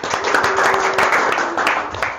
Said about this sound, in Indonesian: Sambut tepuk tangan yang meriah.